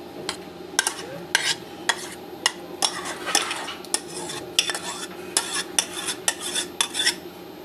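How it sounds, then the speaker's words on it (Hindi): A spoon stirs custard poured over fruit for a trifle in a bowl, knocking against the side in a steady run of sharp, close clinks. "मिक्स कर लेते हैं। फ्रूट के ऊपर डालते हैं कस्टर्ड।"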